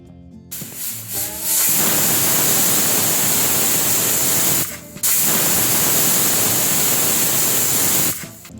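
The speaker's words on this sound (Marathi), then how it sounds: "कुकरचं झाकण बंद करून दोन शिट्ट्या काढून घेऊ" A pressure cooker with chicken kardi inside releases steam in two long, loud hissing blasts, each lasting about three seconds and separated by a short gap, after some quieter clattering at the start.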